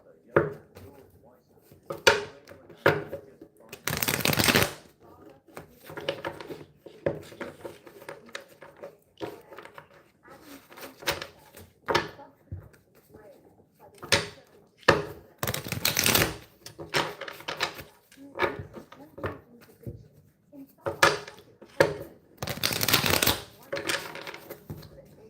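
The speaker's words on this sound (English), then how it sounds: "Give these cards a couple more shuffles." A deck of cards being shuffled by hand in repeated bursts of riffling and snapping, separated by quieter pauses, fairly close and loud.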